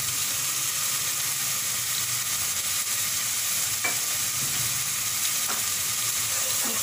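A spoon stirs and mixes a gola kabab masala of cumin, coriander and black pepper powders, giving a steady, close, hissing scrape that continues without pause and with no talking.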